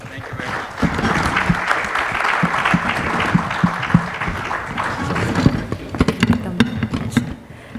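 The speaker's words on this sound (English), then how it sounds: "A round of applause once again" A conference audience applauds a panel at an industry event on galvanizing, a broad wash of clapping mixed with crowd murmur and voices, with sharper individual claps near the end.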